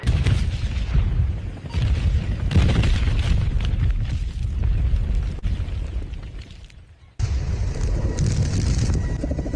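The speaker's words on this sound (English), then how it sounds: "Time to test if these missiles work." A missile launch and explosions in a realistic AI-generated video, with sustained loud roaring blasts and rumbling booms, a brief dip near the end before another heavy burst of noise returns.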